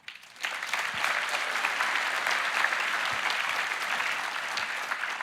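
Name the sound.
audience applause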